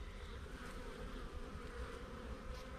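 Honey bees hum steadily around a beehive, a dense continuous buzz at close range, faint overall and with no voices.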